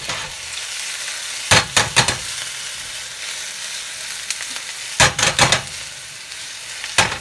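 Onions fry in olive oil in a pan, a steady close sizzle broken by several loud scraping stirs in short clusters.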